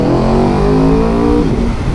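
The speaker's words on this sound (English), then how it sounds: "I think it's the best type of engine, a V4" An Aprilia RSV4 1100 Factory V4 motorcycle engine revs loud and close, a deep rumbling roar whose pitch climbs steadily before dropping away near the end, with no talk.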